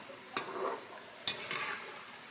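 Sweet bondas frying in hot oil give a soft sizzle, broken by two sharp scraping clinks of a utensil against the pan, close and alone.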